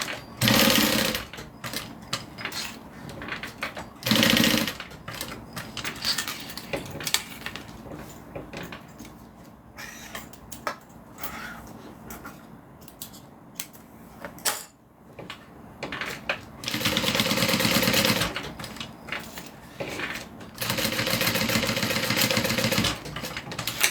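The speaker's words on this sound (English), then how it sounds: "And then I'm going to sew another rectangle." A sewing machine stitches a fabric rectangle for a crossbody bag strap, running in several loud bursts of steady whirring separated by quieter handling clatter and pauses, with no talking.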